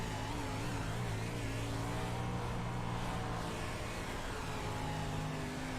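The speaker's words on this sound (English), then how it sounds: "single car qualifying here at the dirt track at Charlotte Motor Speedway" A 305 sprint car runs a single-car qualifying lap on the dirt track at Charlotte Motor Speedway, its engine a loud, steady roar that holds through the whole stretch with no voices over it.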